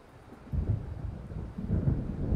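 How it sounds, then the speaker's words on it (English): Thunder from a coming storm in the Alan Wake video game: a deep rolling rumble swells up after a quiet start and keeps grumbling, moderately loud, with a second surge near the end and no voices. "It seems there's a storm coming."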